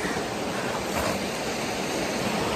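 Small hidden waterfall near Ooty, a steady, dense rush of falling water heard up close and fairly loud, continuous with no pauses and no voices over it.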